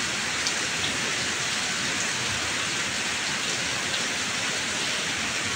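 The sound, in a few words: light rain falling on garden plants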